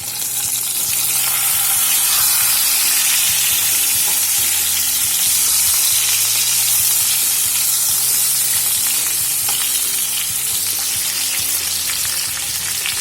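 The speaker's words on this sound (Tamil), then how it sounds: "இப்போ இதை சிம்மில் 10 minutes வச்சு ஃப்ரை பண்ணிக்கலாம்." Pink perch fish fries in a pan with a loud, steady oil sizzle that continues for the whole stretch, broken now and then by the rustle and scrape of the fish being flipped. No one speaks.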